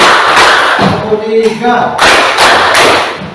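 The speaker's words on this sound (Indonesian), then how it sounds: "Sekarang tepuk dulu." A classroom of students claps hands together on a teacher's command, sharp bursts of group clapping split by a short pause while the teacher speaks between them.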